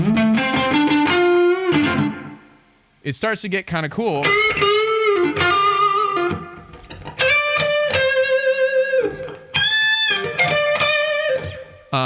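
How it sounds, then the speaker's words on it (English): Electric guitar notes ring out with echo and a gritty overdriven edge, bending and sustaining in phrases, with a brief spoken remark between them. "if I leave the Echo Rain on and I kick the Overdrive back on"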